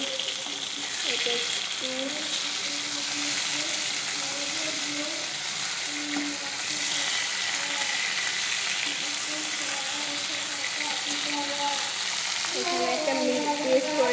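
Fish sizzling and frying in a pan, a steady dense crackle and hiss running loud throughout, with a few brief spoken words over it near the end.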